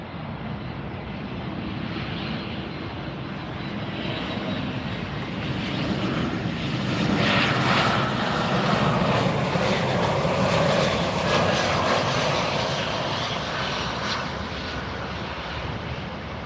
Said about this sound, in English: coming in from Barranquilla, where it left 2 hours 25 minutes ago, Airbus 320-200